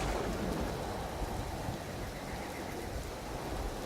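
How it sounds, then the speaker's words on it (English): Steady rain with a low rumble of thunder in the video game Empyrion, a dense, even hiss running unbroken and fairly quiet with no voices over it. "It's raining on mine."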